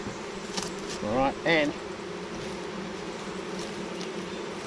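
Honeybees buzz around a nuc hive being moved to a full brood box, a constant droning hum throughout, with someone briefly speaking over it near the start.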